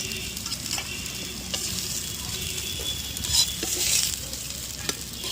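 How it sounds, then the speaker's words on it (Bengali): Cauliflower fries in oil in a pan as it is stirred, close, steady sizzling with scraping stir strokes and brief louder bursts of spatter, with no talking. "আমার ফুলকপিটা লাল লাল করে ভাজা হয়ে গেছে"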